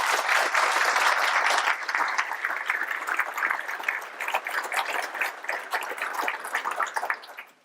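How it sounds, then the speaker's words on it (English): Sustained applause from an audience, a dense wash of clapping that stays loud, then gradually thins and fades toward the end. "Round of applause for Giselle."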